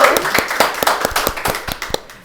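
Hands clapping in a quick, fairly steady rhythm, about a dozen sharp claps in a couple of seconds, close and distinct with a little scattered clapping from others around them.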